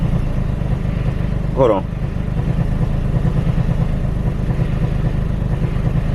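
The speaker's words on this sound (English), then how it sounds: "Even though the engine running like this, with the engine light like flashing, I like to know how it sounds." A 2008 Infiniti G35x with a VQ35 engine runs rough with its engine light flashing, a loud, steady low rhythmic idle pulsing throughout, briefly broken by a short voice.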